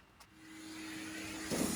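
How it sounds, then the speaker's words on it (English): A Henry Hoover vacuum cleaner sucks lint out of a Candy tumble dryer, its motor rising to a steady droning whine over the short stretch and then growing louder and rougher at the end. "So I'm just going to use my Henry Hoover to vac it up, or vac most of it up, get rid of most of this lint."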